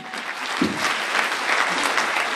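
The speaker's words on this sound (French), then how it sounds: "On l'applaudit." An audience applauds for a few seconds to welcome an international speaker onto the stage at a French-language talk, with steady dense clapping close to the microphone.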